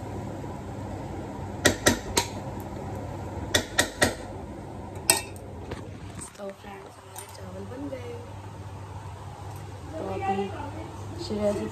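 Rice cooks in a pot as metal utensils clank and scrape against it in sharp bursts, followed by softer stirring and shuffling; someone talks throughout over the kitchen sounds.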